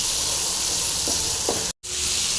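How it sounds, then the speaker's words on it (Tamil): Ingredients for goat leg and kuppaimeni soup frying in a pan, a steady close sizzle and hiss with a couple of soft stirring knocks and a brief dropout near the end. "இப்போ நல்லா ஃப்ரை பண்ணிடலாம் இப்போ நல்லா ஃப்ரை ஆகிடுங்க"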